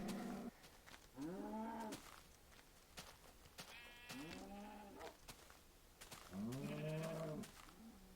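Sheep in the video game Minecraft bleat three times. The wavering calls are clear and come in separate bursts with short pauses between them.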